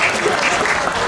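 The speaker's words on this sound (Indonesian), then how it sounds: "Beri tepuk tangan untuk kita semua" Dense, steady applause from a school audience during a socialization session at an Islamic senior high school in Jambi, filling the short moment at a constant loud level.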